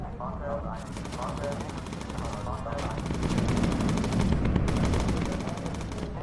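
Sustained machine gun fire rattles continuously from a bomber's turrets in the game Bomber Crew, dense and loud over engine drone and explosions, with no pauses across the stretch.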